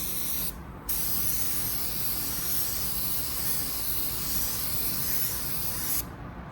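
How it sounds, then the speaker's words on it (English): A spray gun applies sealer to a spray-out card at too low a pressure, giving a steady, close hiss that runs almost the whole time, with brief breaks near the start and end. "I'm going to show you what happens when you spray with too low of a pressure first."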